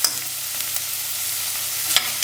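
Chopped onions frying in oil in a pan for ridge gourd curry, a steady soft sizzle with a few light stirring clicks, close by and with no talking.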